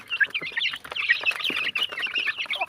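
A group of chickens clucking steadily, overlapping calls close by with a rooster-like cry among them and no voices.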